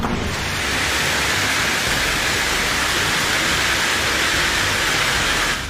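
Massive hailstorm with large hailstones 8 to 9 centimeters across falling in northern Italy, a loud continuous dense roar of impacts that stays steady and unbroken throughout.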